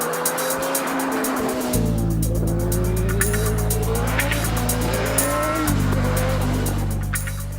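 A Ford RS200 rally car driving fast, its engine revving hard through gear changes with squealing tyres, loud and close, no talk.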